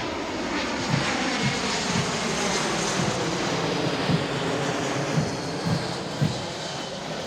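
A C-17 Alpha military transport flies over a USAF basic training graduation ceremony, its loud, continuous jet engine roar filling the whole span with a steady low throb.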